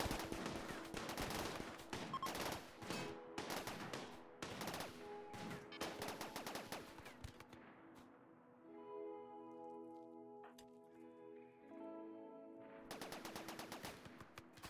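Rimworld turrets fire on traders in bursts of rapid gunfire, dense and loud at first, then thinning into quieter tonal game sounds before another heavy volley near the end.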